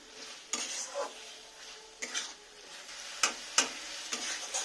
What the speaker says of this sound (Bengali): মশলার সাথে আলুটা ভালো করে কষে নেব।